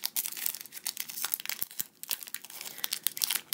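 Crinkly plastic foil of an older Yu-Gi-Oh Order of Chaos booster pack wrapper being torn open from the top, with no rip tab. It gives a dense run of close, sharp crackles and rips that continues without a break.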